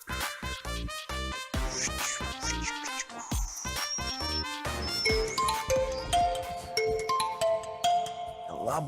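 A mobile phone rings with an incoming call, a loud, close electronic ringtone playing a bright tinkling melody of rapid repeated notes that runs continuously.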